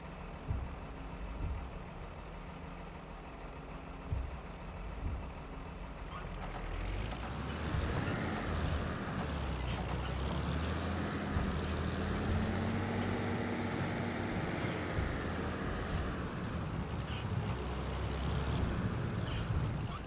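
An Ursus tractor engine with a fault runs loudly, revving up after a few quiet seconds into a sustained droning rumble with rising and falling pitch, close by.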